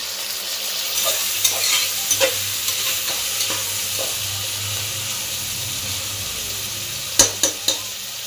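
Tomato and garlic sautéing in a pan, a low steady sizzle broken by a few sharp scraping stirs near the start and a quick cluster of spoon scrapes toward the end, close and fairly quiet with no talk.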